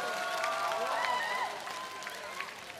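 An audience applauds on a televised singing competition stage, with clapping and cheering voices mixed together and fading somewhat after the first half.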